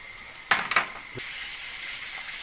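Garlic sizzling in a hot pan, with a few bursts of crackling spatter as it hits the oil, then a quieter steady hiss.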